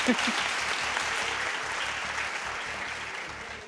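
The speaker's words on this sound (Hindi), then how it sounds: "तालियां बजा के बताओ इनके लिए।" Steady audience applause fills a studio comedy show for a few seconds, dense and continuous with a faint voice briefly underneath.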